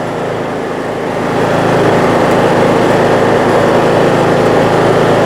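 A Kraft&Dele KD194 inverter generator running while powering a heat gun, a loud steady engine drone that rises slightly as the load comes on and then holds constant.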